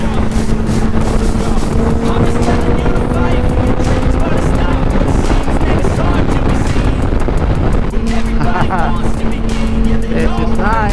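A 2005 Honda CBR 600RR motorcycle riding at about 80 mph, a loud sustained engine drone with steady tonal hum and heavy wind rush throughout, a rider's voice talking over it at points.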